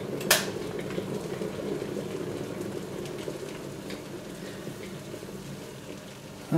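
Hot water just off the boil is poured onto coarse coffee grounds in a French press, a steady splashing pour with a brief clink of glass at the start, close and fairly loud.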